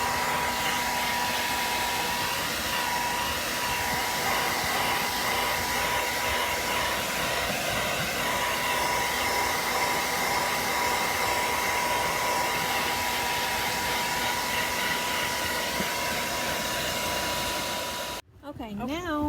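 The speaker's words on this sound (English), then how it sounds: "I'm going to blow dry this one too." A hair dryer blows steadily on a stencilled cabinet door to dry the paint, a loud continuous close whirring drone that holds for most of the clip before cutting off abruptly near the end.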